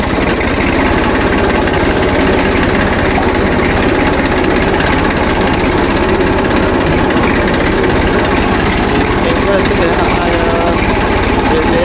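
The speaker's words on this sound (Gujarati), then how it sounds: "આપણે ટ્રેક્ટર ચાલુ કર્યું" A steady, loud engine drones and rumbles continuously close by, like a tractor idling, with a faint voice now and then under the noise.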